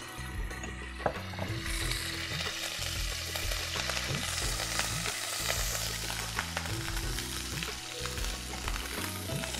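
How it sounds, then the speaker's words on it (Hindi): Ginger garlic paste frying in oil left over from frying kebabs, a dense, loud, continuous sizzle with the steady scrape and knock of a spoon stirring through it. "हम इसी ऑयल में सबसे पहले जिंजर गार्लिक पेस्ट ऐड करेंगे।"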